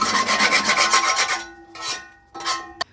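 Metal scraper rasping repeatedly inside a Lone Star Grillz pellet smoker, a fast run of harsh scrapes followed by two slower separate strokes and a sharp tap, close and loud with no talk.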